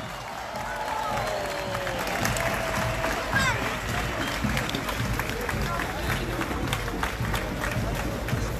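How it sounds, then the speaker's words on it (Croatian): A crowd applauds and cheers for Croatian war veterans at a 2019 parade on the Riva, with a steady, dense roar of clapping and shouting that holds at full loudness for the whole stretch. "Još jedan veliki aplauz i vrisak za njih da vas čujem!"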